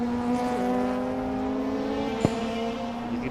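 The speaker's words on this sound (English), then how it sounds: "You can hear the wail of that engine as it passes the commentary box where I'm sitting right here." A race car engine at a 2018 track event holds a steady, high, tonal wail as it passes the commentary box, its pitch shifting slightly once, with a brief sharp tick near the end.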